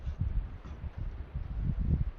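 Strong wind blowing outdoors, buffeting in low, uneven gusts that swell and fade across the moment, fairly close with no voices.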